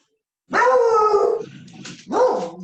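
A dog barks twice nearby, a long loud bark followed by a shorter one, with no talk over it.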